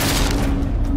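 An early gun fires as a single loud, booming blast that holds as a dense roar over the whole moment, close and heavy, with no talking.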